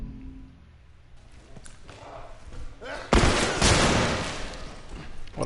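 Gunfire from The Last of Us rings out during gameplay, with a loud burst and a second blast about half a second later over a low rumbling ambience, preceded by quieter scuffling sounds.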